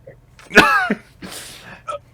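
A single sharp sneeze bursts out, followed by a short breathy exhale and a faint trailing sound.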